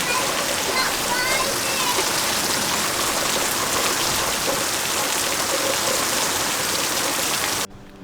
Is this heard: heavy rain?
yes